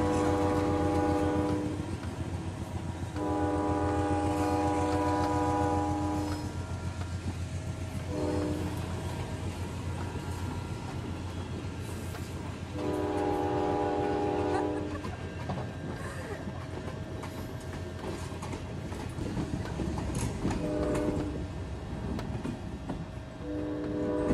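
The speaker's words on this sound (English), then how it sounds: "we actually got to see a train coming right up the trail" A train rolls up along a rail trail, sounding several long horn blasts over the steady rumble of its cars, loud and close.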